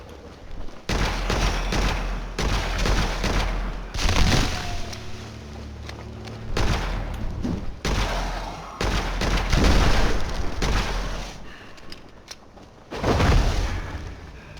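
Gunfire in the video game Witchfire, with repeated loud bursts of shots and booming impacts spread through the clip, separated by short lulls, with no talking.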